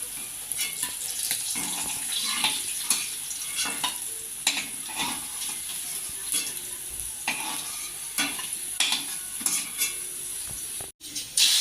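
Steady close sizzling of rohu fish frying in hot oil, with repeated scraping and clinking of a spatula stirring in the pan.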